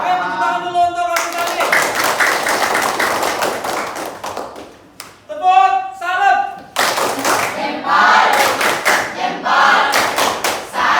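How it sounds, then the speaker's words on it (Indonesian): A class of vocational school students bursts into loud, close clapping in two long stretches, with voices calling out and a short bout of talk and shouting in the pause between. "Oke, tepuk tangan dulu untuk"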